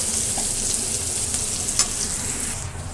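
Egg frying in a pan with onion and chillies, a loud, close, continuous crackling sizzle with a faint clink near the end, no voices.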